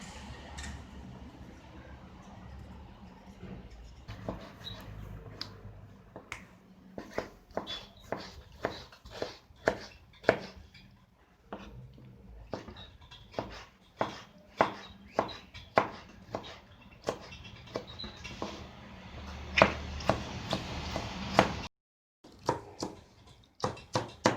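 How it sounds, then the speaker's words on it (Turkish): Rapid, steady knife chops finely cutting peeled tomatoes on a cutting board, many sharp close taps in quick succession, with a short pause near the end. "domatesimin kabuklarını soyacağım ve ince ince doğrayacağım."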